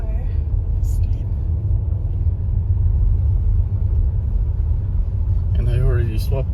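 Car driving on a snowy, slippery road in a Calgary snowstorm, with a steady low engine and road rumble throughout and people talking faintly near the end.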